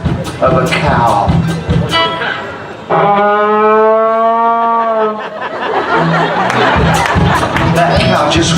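A performer's voice imitates a cow mooing in one long, loud, wavering drawn-out moo at a hillbilly comedy stage show, with the crowd's chatter and noise on both sides.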